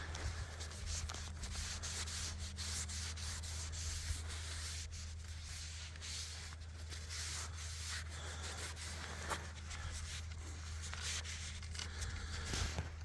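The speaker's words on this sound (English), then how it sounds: "I'm going to sand the other stick down and lightly" Sandpaper rubs steadily along a wooden hiking stick, a continuous close-up scraping hiss with faint rhythmic strokes over a low steady hum, and no voices.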